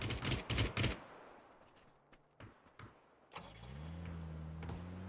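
A damaged vehicle in an M249 challenge video game, one tire out, comes in as a steady engine drone after a loud opening burst of gunfire and scattered shots.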